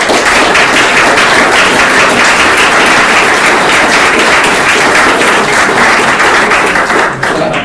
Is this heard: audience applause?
yes